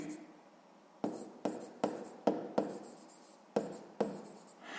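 Pen strokes during a sixth-grade math lesson, heard as about eight short, crisp scratches in an uneven rhythm, close and fairly quiet, with no speech.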